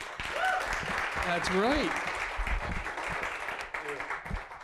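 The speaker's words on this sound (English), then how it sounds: "round of applause" Audience applause at a talk on protecting students against misinformation, a dense broadband clapping wash filling the room, with a speaker talking loudly over it and a brief whistle-like tone partway through.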